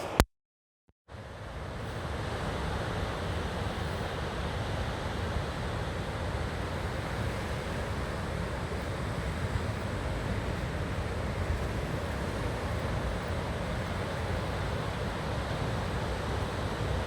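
Ocean surf at Main Beach on Australia's Gold Coast: after a second of silence, waves break in a continuous, loud, broad roar with some wind noise and no voices.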